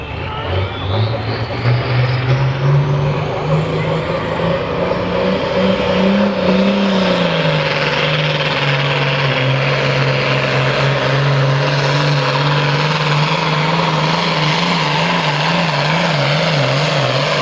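A heavy five-cylinder International Harvester 2150 tractor engine drones loudly and steadily, its pitch rising early then holding with slight wavering, running continuously with no breaks.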